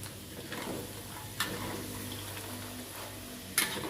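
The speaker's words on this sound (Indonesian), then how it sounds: "ini sambil diaduk-aduk ya, kita gorengnya agar" Nougat cake ingredients fry in a pan while being stirred, a soft continuous sizzle broken by a couple of sharp scraping clinks from the stirring.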